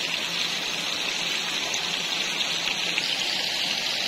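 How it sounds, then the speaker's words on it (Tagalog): Strong floodwater rushes steadily past on a farm, a loud continuous churning wash with no talking over it. "super lakas ng tubig."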